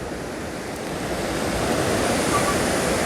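Sea waves wash steadily onto a wet sandy shore, a continuous loud surf roar with some wind noise that swells slightly toward the end, with no voices.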